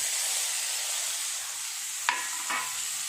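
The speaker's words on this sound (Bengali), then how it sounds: "পেঁয়াজ রসুন ভাজা ভাজা হয়ে গেছে, এর মধ্যে দিয়ে দেব কেটে রাখা টমেটো" Chopped tomatoes go into onion and garlic frying in oil, where a steady close sizzle and hiss carries on, broken by two short clattering stirs.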